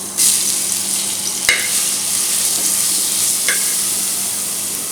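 Crushed garlic, ginger and whole fennel seeds sizzle loudly in hot oil for an egg roast, a close, steady crackling hiss with a couple of sharp stirring clicks.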